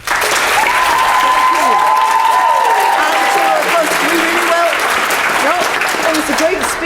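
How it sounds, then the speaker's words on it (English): Sustained applause fills a debating chamber at a youth parliament session in the House of Commons, a loud, even roar of clapping hands that runs the whole time, with voices faintly audible over it. "we'll have to stop the clapping or else we just won't get lots of people in"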